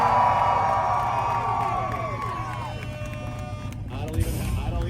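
A crowd cheers and shouts at an import car rev battle in Woodburn, Oregon, a loud sustained roar that fades slightly before a burst near the end, with an announcer's voice carrying over it.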